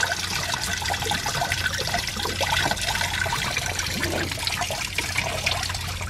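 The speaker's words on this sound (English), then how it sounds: "That drained a whole load of coolant in the bucket." Coolant running from a loosened water pump hose on a BMW N52 engine into a bucket, a steady continuous trickling and splashing pour that stays even throughout.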